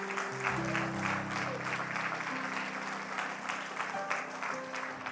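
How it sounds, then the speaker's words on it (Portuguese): A church congregation claps in worship, strong rhythmic applause over sustained organ or keyboard chords, the clapping pulsing steadily through the whole passage. "Aplauda o Senhor aí no seu lugar, bem forte."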